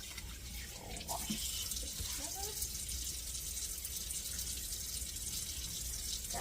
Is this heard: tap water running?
yes